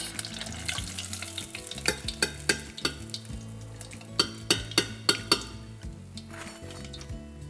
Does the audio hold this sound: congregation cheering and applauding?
no